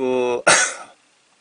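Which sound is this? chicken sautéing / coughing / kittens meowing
coughing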